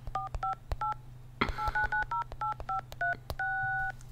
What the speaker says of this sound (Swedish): Och så slår vi numret till han här då.